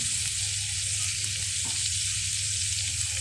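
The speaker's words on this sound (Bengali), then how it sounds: "এখন আমি গুঁড়া মশলাগুলো দিয়ে দেবো" Ground turmeric and coriander hitting hot oil with cumin and garlic in a pan for a silver carp and cauliflower dish, a loud, dense, steady sizzle with a low hum underneath, close by and without voices.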